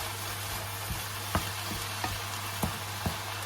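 Garlic frying in a pan, a steady close sizzle with a few soft knocks as a spoon stirs it around, no voices.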